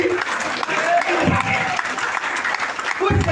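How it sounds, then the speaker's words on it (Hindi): Audience applause for a speaker called onto a stage at a talk, a dense continuous clapping wash with a voice speaking over it in places. "अभी भी कुछ लोग ताली।"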